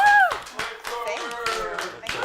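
An audience claps its hands in quick bursts to vote for a proposed solution, sharp slaps scattered across a couple of seconds with voices talking over and between them.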